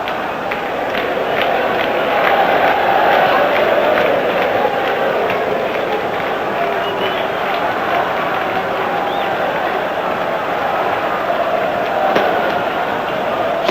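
A packed stadium crowd of Vasco and Flamengo fans at the 1987 Carioca championship final, with fireworks going off: a steady, loud roar of massed voices throughout, with faint sharp pops scattered through it.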